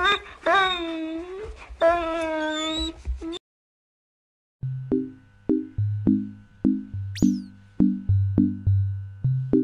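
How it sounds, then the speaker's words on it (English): A cartoon dog in the Pocoyo children's app whimpers in two drawn-out, wavering whines, followed after a pause by a run of bright, plinking musical notes. "This dog isn't feeling very well."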